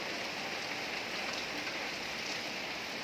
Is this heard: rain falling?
yes